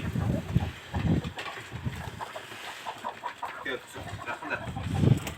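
Laying hens cluck in scattered bursts around feeding time, fairly close and moderately loud over a steady outdoor background.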